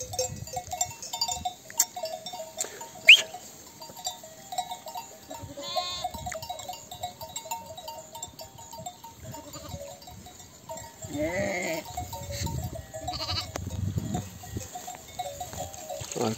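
Sheep and goats graze on a highland pasture, with scattered bleats near and far, cowbell-like clinks and soft rustling, steady and unhurried with no talk.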